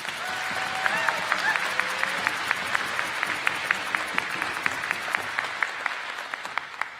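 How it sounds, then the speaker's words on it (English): Steady, full applause from a convocation audience honoring graduating students from community development programs, a dense, even wash of clapping with a few sharper claps standing out throughout. "we ask that you honor these students by giving them a round of applause"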